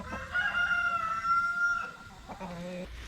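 A rooster crows once, long and clear, near a barn, followed by a few short clucks from the chickens around it, with no talking.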